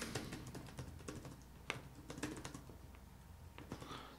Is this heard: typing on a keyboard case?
yes